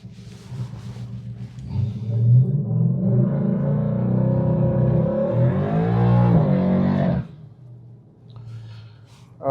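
A Mustang accelerates hard off the line in a street-car takeover race heat, engine roaring loud and rising through revs for about five seconds before cutting off abruptly, then quieter crowd ambience.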